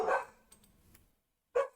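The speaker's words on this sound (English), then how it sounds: "My dogs are barking." Dogs bark somewhere in a home, a couple of short sharp barks with softer yips between, moderately close with quiet gaps and no talk over them.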